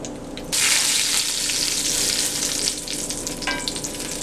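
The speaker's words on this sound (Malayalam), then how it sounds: "നമുക്ക് ഇതിലേക്ക് ഒരു 2 ഉണക്ക മുളക് പൊട്ടിച്ച് ചേർക്കാം" Broken dried red chillies hit hot oil with fenugreek seeds, setting off a sudden loud sizzle that keeps crackling and hissing steadily, close up.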